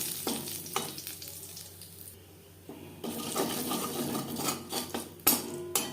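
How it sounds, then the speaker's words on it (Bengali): Whole cumin seeds hit hot oil in a wok used for frying pointed gourd, crackling and sizzling loudly in bursts, easing briefly and then flaring again with a few sharp pops, close and without voices. "কড়াইতে আবারও তেল দিয়েছি দিয়ে দিলাম সামান্য পরিমাণে গোটা জিরে"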